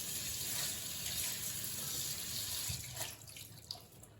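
Water running from a kitchen tap to wet a cleaning sponge, a soft steady gush that shifts as the sponge goes under the stream, fairly quiet and with no talk.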